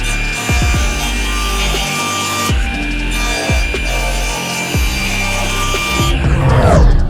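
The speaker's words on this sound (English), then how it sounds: "I'm going to use a table saw here to take the slightest amount off" A table saw takes a very slight trim off the edge of a sapele and walnut chessboard: a loud, steady whine with several repeated cutting passes and the blade spinning throughout.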